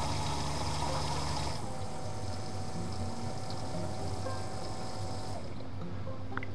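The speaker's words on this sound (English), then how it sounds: "And then you'll hear the pump go again" Keurig coffee maker pump runs steadily to add water to the reservoir for preheating, a continuous gurgling, trickling whir that stays close and fairly loud before easing off near the end.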